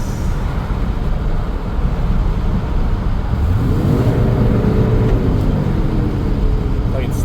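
A 1997 Chevrolet K1500 pickup with a 5.7L Vortec engine and a transmission fault coasts with no throttle, a loud, steady drone of engine and road noise inside the cab, with a tone that rises and falls midway.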